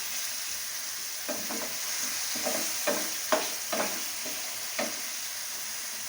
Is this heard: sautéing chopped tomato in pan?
yes